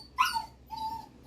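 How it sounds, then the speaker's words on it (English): A puppy whimpers in two short high whines, close and fairly clear, in a quiet room with no talking. "Puppy."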